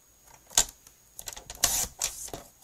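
Blue cardstock being cut for card making, a few crisp snipping and slicing clicks in quick succession, close and sharp with no talking.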